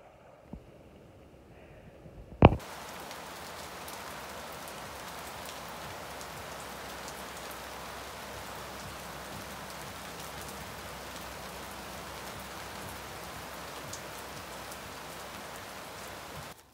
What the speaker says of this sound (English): So if this little sprinkle that we're getting is all we get, I'll be okay with that.